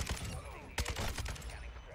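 Kastov 762 assault rifle fire in Modern Warfare, sharp rapid bursts of close gunshots cutting in loudly after a brief lull, mixed with a player's voice speaking over the game sounds.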